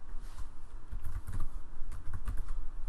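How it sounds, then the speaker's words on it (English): Computer keyboard typing in a steady run of close, quick clicks and clacks, with no voices over it. "you just type in a description"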